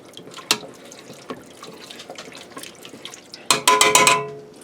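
Beef broth from a 14.5 ounce can pours into a pressure cooker pot, with soft clinks and a splashy liquid burst near the end, alone and close.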